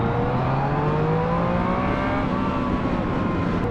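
A Yamaha naked motorcycle at a demo day accelerates hard, its engine note climbing steadily in pitch as it revs through the gear, loud and continuous with wind rush.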